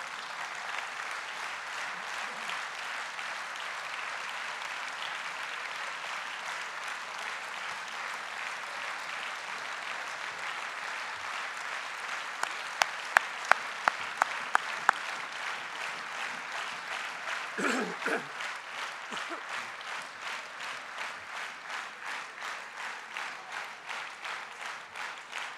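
A large congress hall audience applauds the international delegations at a closing speech, a long distant wash of clapping that settles into a rhythmic unison beat, with a few sharper claps and a brief voice midway.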